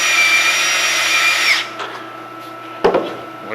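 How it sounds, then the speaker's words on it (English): A power drill with a 45/64 inch bit whines steadily and close for about a second and a half, drilling a tap hole for a compressed air manifold, then stops, followed by a quiet pause and a sharp metallic clunk. "this is a 45/64 drill. That's our tap drill size"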